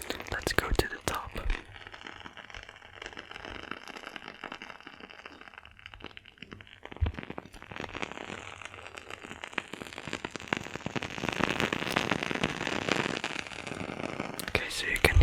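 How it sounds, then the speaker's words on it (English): A burning candle sits right against a microphone and gives off soft, irregular crackles and tiny pops over a low hiss, faint and intimate throughout. "you can hear the candle very well"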